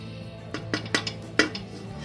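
A spoon clinks and scrapes against a dish while mixing paste for Peshawari charsi chicken karahi: several close, bright taps in an uneven rhythm over a steady low background hum, with no talking.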